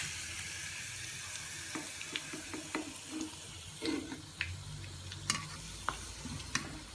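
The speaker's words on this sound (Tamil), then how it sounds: "இப்போ சிக்கன் நல்லா ஃப்ரை ஆகிடுச்சுங்க" Pieces of chicken frying in oil produce a steady hiss and sizzle with stirring and scattered sharp pops and clicks, close and fairly quiet, with no talking.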